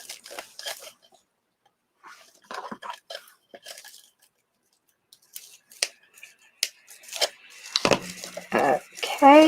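Scissors snip through ivy stems while a wreath is being made, giving scattered crisp clicks and rustling with brief pauses between them; a faint voice is heard near the end.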